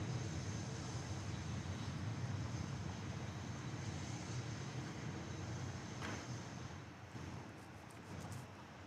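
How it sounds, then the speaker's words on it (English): A Cessna 650 Citation VII private jet taxiing out to depart at Dallas Love Field, heard as a steady broad engine rumble and whine, moderately distant and continuous, with some wind noise on the microphone. "That was a Cessna 650 Citation 7. It's headed out to depart"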